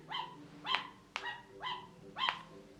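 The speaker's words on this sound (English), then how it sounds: "So if you're reading the woof, the dog goes woof" A recorded dog bark plays from the sound button of a children's animal picture book, giving four or five sharp, evenly spaced woofs close up with no talking over them.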